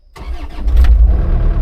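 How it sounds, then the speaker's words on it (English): A CAT 305.5E2 mini excavator diesel engine cold-starts after sitting about a week, giving a brief crank before it catches into a loud, deep rumbling idle. "Nice cold startup after about a week or something."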